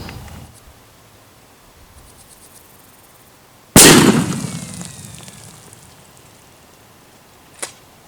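A shotgun fires a single Winchester 3.5 inch Magnum number 4 buckshot load outdoors at a 40-yard target: one sharp, very loud blast with a long rolling echo, followed seconds later by a faint short click.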